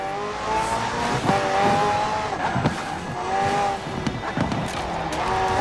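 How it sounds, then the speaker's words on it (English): A McLaren P1 GTR with a twin-turbo V8 and electric assist races in Forza Horizon 4, its engine note rising and falling through gear changes, with brief tire squeals over steady, loud driving. "The car's blistering performance is delivered by a twin-turbo V8, supplemented by a McLaren ECU electric motor and instant power assist system."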